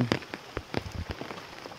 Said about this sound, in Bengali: সারা রাত বৃষ্টি হচ্ছে, এখন বৃষ্টি থামার কোনো নাম নেই।